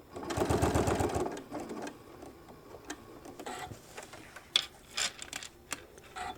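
Sewing machine stitching a fabric shoulder bag with a fast, loud mechanical whirr for just over a second, followed by quiet ticks and clicks as the fabric is handled and turned.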